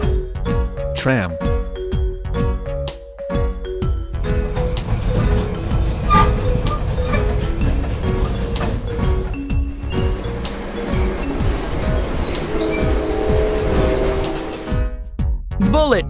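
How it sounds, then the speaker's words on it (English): Cartoon tram running along, a continuous rail-vehicle rumble with bell-like dings and tinkling tones repeating over it, close and fairly loud throughout. "Tram."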